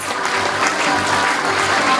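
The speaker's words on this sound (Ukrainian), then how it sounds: "Сергію Петровичу, ці оплески для вас" Steady applause from an audience at an awards presentation for Ukrainian gas transmission workers, filling the whole stretch at full volume without pause.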